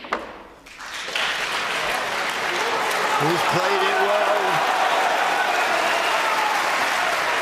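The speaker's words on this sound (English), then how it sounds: "every pot gets a big round of applause." A large snooker audience at the UK Championship in the Barbican bursts into loud sustained applause after a pot, steady clapping filling most of the clip while a commentator speaks over it.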